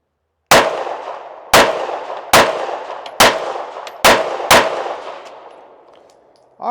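Six loud, sharp pistol shots from a compensated handgun crack at irregular intervals, each followed by a long ringing decay, with near silence between them.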